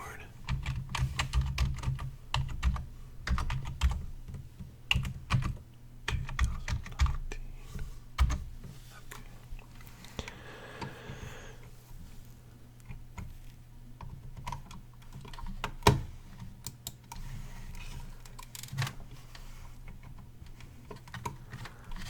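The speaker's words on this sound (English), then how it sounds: "So I have this nice mechanical keyboard." Mechanical keyboard keys clattering in quick irregular bursts, close by, with short pauses and a brief stretch of quieter sound in the middle.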